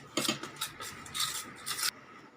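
A spoon stirs masala and water together in a bowl, giving a few short, close scraping and rubbing bursts in quick succession with no voices.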